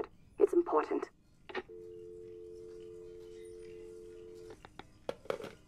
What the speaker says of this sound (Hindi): फिर से वही जोई का फोन आया था